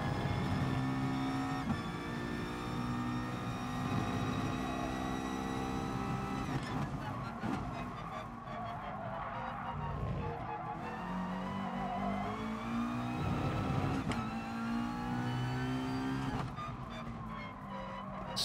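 A McLaren race car in Gran Turismo Sport revs and shifts gears repeatedly, its engine note climbing and dropping in steady cycles with occasional tire squeal, loud and continuous with little talk over it.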